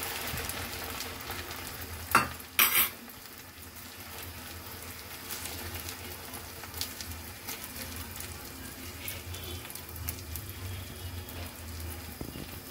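Egg mixture sizzles in hot oil in a pan with a steady, close crackle, broken near the start by a couple of sharp clatters from a utensil.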